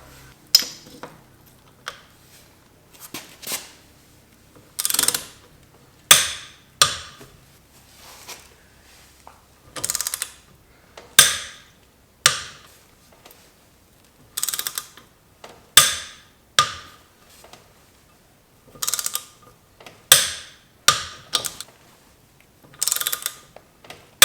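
A hand ratchet tightens the lug nuts on a car wheel during a tire change, making short bursts of rapid clicking that repeat every second or two, close and clear against a quiet background.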